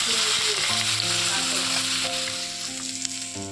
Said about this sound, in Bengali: এখানে একটু ভেজে নিচ্ছে দিদি।